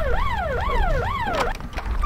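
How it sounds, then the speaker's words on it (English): A prison alarm siren wails in the video game Hard Time, a loud rising-and-falling electronic tone cycling about four times in quick succession, then cutting to a few clunks, with no talking. "Can you ever actually escape when the siren's going?"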